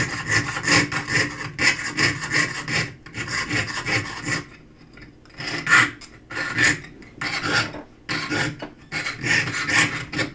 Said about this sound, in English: Nice long strokes when you are sawing.